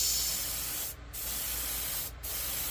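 Airbrush spraying paint onto the body panels of a Tamiya 1/14 Ford Aeromax model truck, a steady close hiss of compressed air interrupted by two brief pauses.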